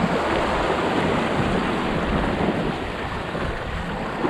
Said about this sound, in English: we got a little gust here